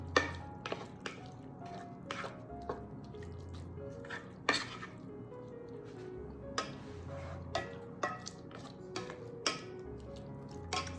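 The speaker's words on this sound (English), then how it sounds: "I'm going to give them a quick stir." Spoon stirring ground beef and chopped onion in cooking pots, giving scattered light clinks and scrapes against the metal over a low steady hum, close by and fairly quiet.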